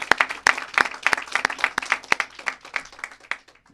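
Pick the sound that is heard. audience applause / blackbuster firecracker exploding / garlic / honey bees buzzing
audience applause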